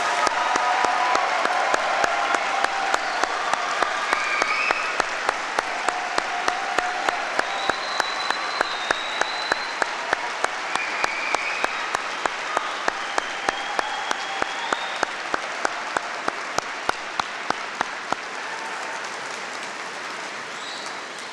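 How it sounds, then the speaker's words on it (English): A large audience at a university winter congregation applauds new graduates: dense, sustained clapping filling a big hall, steady and full throughout with faint crowd murmur underneath. "So shall we give our freshly minted graduates a round of applause?"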